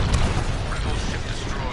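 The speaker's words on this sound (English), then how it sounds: "Enemy fire!" Enemy blaster fire in Star Wars: Squadrons rumbles in a dense, continuous wash of space-combat noise, loud and close, with a voice talking over it.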